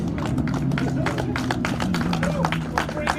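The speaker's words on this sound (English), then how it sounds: "give these guys a round of applause." Scattered hand claps and cheering rise from the crowd at a Radical Cup North America podium trophy ceremony at Sebring, continuous and moderately loud over a steady background hum and murmuring voices.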